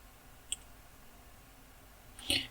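Two sharp computer mouse clicks, one single and one quick double click near the end, close and crisp against a quiet room hum.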